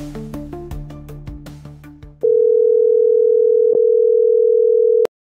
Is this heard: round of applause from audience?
no